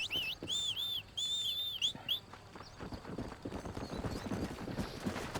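Horse hooves clip-clopping in the Western video game Red Dead Redemption, a steady run of quick hoof beats that follows a few whistles and bird calls.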